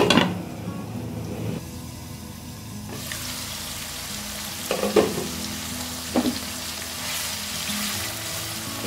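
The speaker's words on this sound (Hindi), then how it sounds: "अब मैं प्याज को ट्रांसपेरेंट होने तक पकाऊंगी।" Chopped onions fry in a hot pan for an apple gourd (tinda) sabzi, a steady close sizzle broken by a few louder scraping stirs with no talking.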